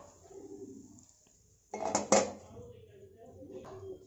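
A lid set down on a dosa pan gives two quick metallic clanks close by, with quiet kitchen sounds around them and no talk.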